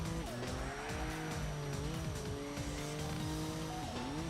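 A Mazda MX-5 race car in Assetto Corsa drones steadily at high revs, the engine pitch rising and dipping with gear changes under a constant hiss of tyre and road noise, faint throughout.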